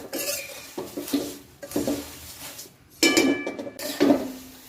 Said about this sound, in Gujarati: મીડિયમ ગેસ પર જ આને સખત આપણે હલાવતા રહેવાનું છે જ્યાં સુધી આપણા પૌમાં ક્રિસ્પી ના થાય